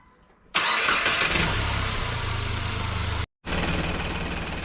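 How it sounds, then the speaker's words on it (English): A 2012 Nissan Versa engine cranks and catches, then settles into a loud, uneven rough idle with a brief dropout before the rumble continues. "let me start the vehicle up and see if we could get"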